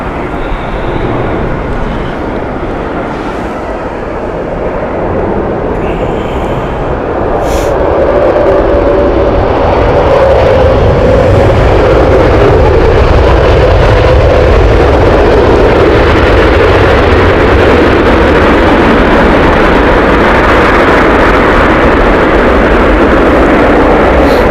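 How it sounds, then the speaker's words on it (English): A brand-new Delta Airbus A330-900 sits at Heathrow Airport, its engines giving a loud, continuous roar that grows stronger partway through and holds steady. "A330-900 Los Angeles flight Delta 186. This is a brand new aircraft."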